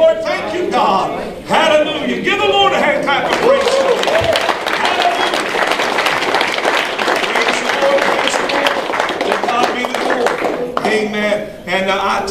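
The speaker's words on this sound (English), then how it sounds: "Give the Lord a hand clap of praise." Church congregation clapping hands in praise during a worship service, a dense continuous wash of claps and cheering voices filling the room for most of the stretch, loud and close, with singing and talk mixed in.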